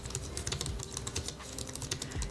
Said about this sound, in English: The MX Keys is a low-profile keyboard that is comfortable to type on and has a very